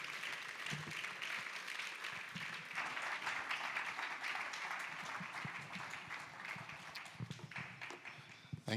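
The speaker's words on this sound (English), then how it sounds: "give a round of applause for Mr." A hall audience at a development forum breaks into sustained applause that stays steady and dense from start to finish, with a few louder nearby claps toward the end.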